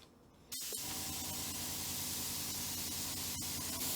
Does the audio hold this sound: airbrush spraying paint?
yes